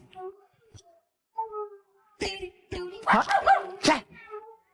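A dog gives a few short, sharp barks and yips close by, between stretches of a person talking.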